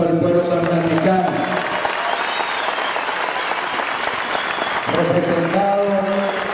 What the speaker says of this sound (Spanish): que hoy se merece un fuerte aplauso del pueblo sanfranciscano